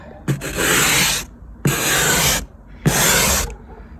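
A cheap car ice scraper, bought for 15–20 hryvnias, scrapes snow and ice off a car in three separate strokes, each about a second long, loud and close with short pauses between.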